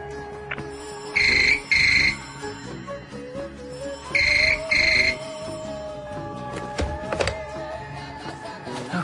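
Phone ringtone in an anime scene: two pairs of short, bright electronic rings, loud and close, separated by a pause, with soft background music and faint tones between them.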